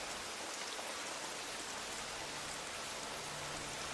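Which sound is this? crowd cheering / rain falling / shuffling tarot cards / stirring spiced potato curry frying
rain falling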